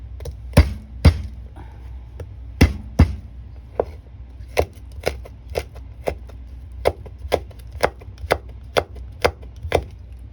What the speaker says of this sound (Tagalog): At saka itong ating garlic. Pitpitin lang natin siya.